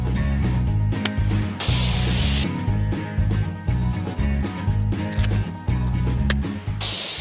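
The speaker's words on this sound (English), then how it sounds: "you're spraying in that Z pattern, spraying at the bear and down to the ground" Bear spray discharged in a sweeping Z pattern toward the ground outdoors, two long loud hissing blasts separated by a brief gap, over a dense backdrop of low tonal sound.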